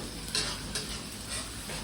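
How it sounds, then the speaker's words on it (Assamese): Onions frying with goat meat in a pan, with steady sizzling under repeated scraping strokes of a stirring utensil, close and fairly loud with no talking. "পিঁয়াজ ভাজি থাকোঁতে অলপমান নিমখ দি দিব"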